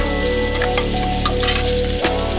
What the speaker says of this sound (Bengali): এখানে আমি তেলটা বসিয়ে দিয়েছি, দিয়ে দিচ্ছি রসুন